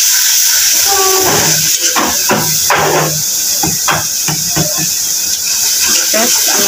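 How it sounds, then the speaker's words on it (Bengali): Onions fried with ginger-garlic paste in a pan, a steady close hiss of sizzling running throughout, with someone speaking over it and a few clinks of a utensil. "দিয়ে আমি পেঁয়াজটাকে ভালোভাবে ভেজে নেব"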